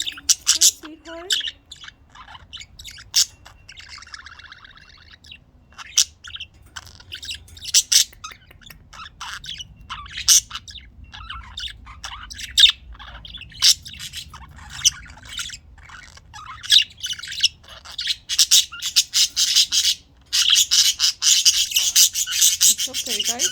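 Pet budgies chirp and squawk in a home, giving sharp scattered calls and scratchy raspy chatter close by. The calls grow busier and denser toward the end, with some quiet background noise.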